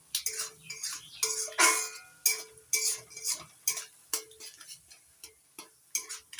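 A spoon stirs and fries a ginger and tomato spice paste for a pointed gourd (potol) korma over medium heat, making a run of sharp, rhythmic scraping and clinking strokes against the pan, close and clear with no talking.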